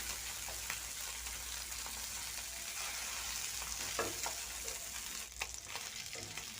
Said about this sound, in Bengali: মাথাগুলোকে একটু খুন্তির সাহায্যে ভেঙে টুকরো করে দিচ্ছি